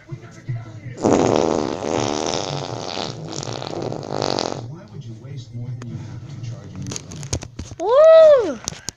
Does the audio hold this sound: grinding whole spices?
no